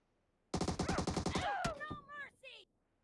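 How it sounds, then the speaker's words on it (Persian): First-person shooter gunfire as a player breaks from cover: a rapid, evenly spaced burst of about a dozen loud automatic shots, then a sharp crack and scattered game effects trailing off, with no talking over it. "امیر از کاور میاد بیرون شروع میکنه تیراندازی"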